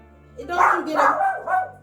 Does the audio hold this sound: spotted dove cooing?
no